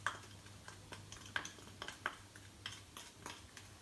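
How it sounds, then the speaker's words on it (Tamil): Spoon stirring rava, sugar and cashews in ghee in a pan, soft scraping and light clinks in an irregular rhythm, faint and close with a low steady hum underneath. "அந்த சூட்லேயே வந்து கொஞ்சம் கலருவோம்"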